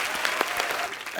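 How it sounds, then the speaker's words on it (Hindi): Studio audience applause on a comedy talk show, a short, steady burst of many hands clapping at moderate loudness with no voices over it. "तालियां बजती रहनी चाहिए"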